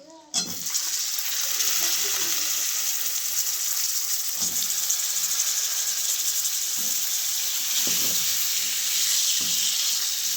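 Brinjal sizzles loudly in hot spiced oil, a bright, constant crackling hiss with occasional soft clinks of stirring.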